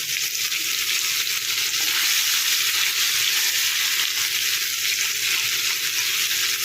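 Paneer pieces fry in a pan, giving a loud, dense, continuous sizzle that holds steady throughout, with occasional faint stirring underneath.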